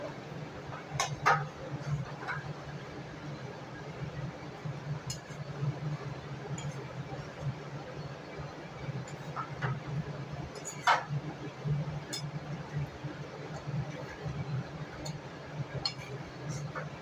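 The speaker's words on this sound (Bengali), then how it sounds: "চামচ দিয়ে ঘুরিয়ে ঘুরিয়ে নিতে হবে" A spoon clinks lightly against a bowl as sugar is stirred into a Bengali dessert, with scattered soft taps and scrapes over a quiet steady hum.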